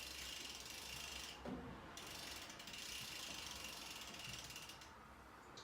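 A ratcheting tool snugs bicycle flat pedals with close, rapid clicking that runs almost continuously, broken only by a short pause partway through.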